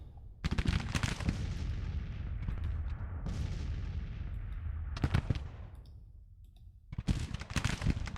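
Artillery batteries firing in the Civil War strategy game Grand Tactician, loud booming shots in several clustered volleys with rumbling tails between them, no voices.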